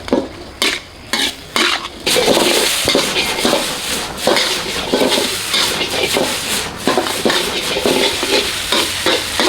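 Tom yum seafood fried rice being stir-fried in a wok, with loud rhythmic metal spatula scrapes and clanks over a continuous sizzle, opening with a few sharp separate strokes before settling into steady tossing.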